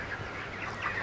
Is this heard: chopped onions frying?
no